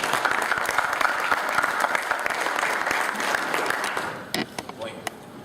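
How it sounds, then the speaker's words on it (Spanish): An audience at a colloquium applauds loudly and steadily, a dense wash of clapping that thins out near the end into a few scattered claps. "démonos un fuerte aplauso a Sergio Bernal Rojas."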